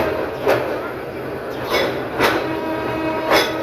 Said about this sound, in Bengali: ট্রেনটি নারায়ণগঞ্জ রেল স্টেশন ছেড়ে যাচ্ছে